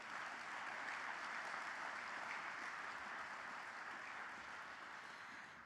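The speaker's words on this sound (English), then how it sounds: "So let's give them a round of applause." Steady, sustained applause from an audience at the grand opening ceremony of the Arlen Specter US Squash Center, evenly loud and dense throughout before tapering slightly at the end.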